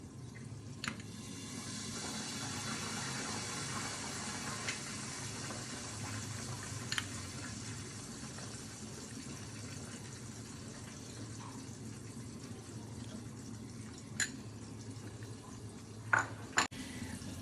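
Chicken fillet for a zinger burger sizzling and frying in a pan, a steady soft crackle and hiss with a few scattered pops and drips, close and continuous with no talking.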